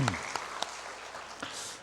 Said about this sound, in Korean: 우리 찬양대원들 위해서 다시 한번 격려의 박수 부탁드리겠습니다.